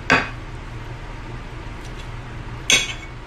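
A knife clinks sharply against a plate twice, a few seconds apart, while cutting burgers in half, with quiet stillness in between.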